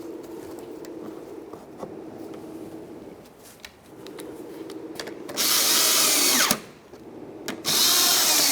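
A power tool drives a 10 mm bolt into the inner fender liner of a Toyota Sienna in two loud, close whirring bursts, each lasting a second or more, over a low background hum.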